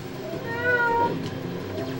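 A short cat-like meowing jump effect from the Shadow the Hedgehog video game, a single rising-and-falling tonal cry over a faint hum, fairly quiet.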